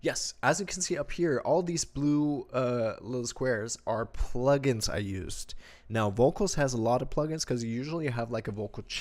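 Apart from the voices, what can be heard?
No everyday noises stand out.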